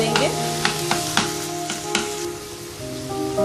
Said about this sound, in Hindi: अब इसमें शामिल करेंगे 2 टमाटर बड़े साइज़ के चॉप किए हुए और इसको 3-4 मिनट अच्छी तरह से कुक करेंगे